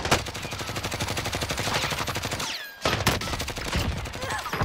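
Rapid bursts of gunfire from a battle-royale style video game, a dense crackling volley that breaks briefly and resumes, loud and close, with players' voices faint underneath.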